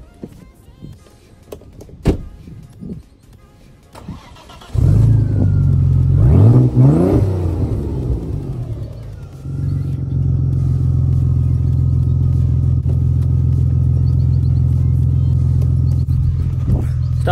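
Audi A6 car on a drive, its engine starting to rumble loudly after a quiet stretch, revving up briefly, then settling into a steady, continuous drone with a faint high whine above.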